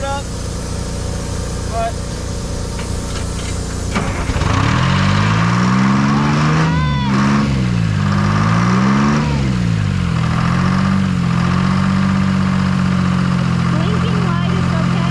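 An old skidder left sitting for 15 years, with blown radiator hoses and a leaking tire, starts up and runs loudly at close range, its engine rising and falling as it revs and drives, with brief talk over it.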